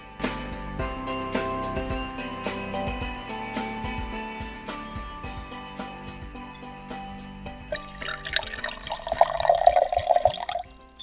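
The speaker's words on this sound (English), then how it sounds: "You need to pour the rum so that all the ingredients are completely soaked." Rum trickles and splashes into a jar of Christmas fruit cake ingredients, starting as light drips and building to a fuller, louder pour near the end.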